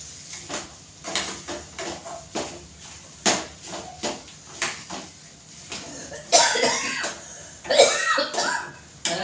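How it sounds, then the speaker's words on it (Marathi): A person coughs repeatedly from chili fumes while cooking, a series of sharp, close coughs and throat clearing in irregular bursts against quiet kitchen background. "मला मिरचीचा ठसका लागतो."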